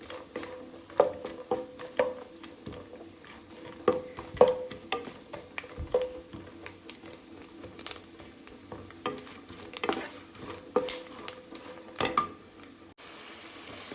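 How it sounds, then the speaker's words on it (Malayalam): Ground jackfruit paste being sautéed with roasted dried coconut pieces in a pan, soft sizzling with intermittent scraping stirs and clinks of a spoon, fairly quiet and close. "ഈ അരച്ച് വെച്ചേക്കുന്ന ചക്ക ചേർത്ത് ഒന്ന് വഴട്ടും"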